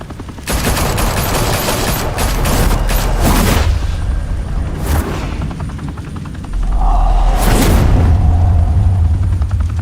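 Bursts of automatic gunfire rattle through a Batman: The Telltale Series shootout in Gotham, loud and dense, with heavy booming impacts and a low rumbling blast toward the end.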